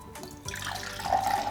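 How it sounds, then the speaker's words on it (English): Water gently poured into a magic cup, a soft splashing trickle that swells after a brief pause and ends in a rising, ringing gurgle as the cup fills, with no talking. "So gently, I'll put the water."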